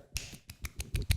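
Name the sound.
one-handed clapping trick, hand slapping itself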